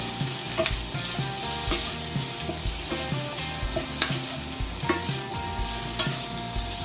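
Mushrooms sauté in oil in a pan with a loud, close, constant sizzle, while repeated tossing and stirring adds rhythmic scraping and clattering throughout.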